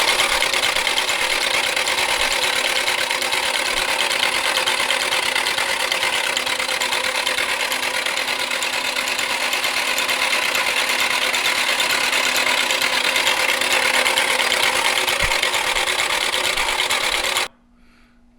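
Engine of an abandoned JDM sports car cranking over without catching, a steady loud whirring drone holding evenly for about seventeen seconds before cutting off abruptly.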